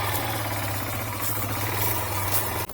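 A 2022 Peacesports Brozz Recon 250 dual-sport motorcycle's small engine runs steadily at idle with a constant low rumble and slight vibration, close by, then cuts off abruptly near the end.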